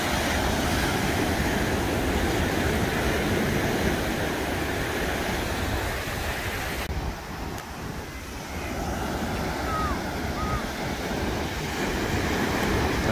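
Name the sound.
ocean waves on Isle of Palms beach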